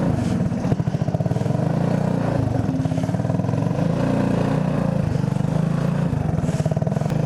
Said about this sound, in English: we're taking this thing for the first ride in it. And it's still having some engine problems, so it's gonna sputter quite a bit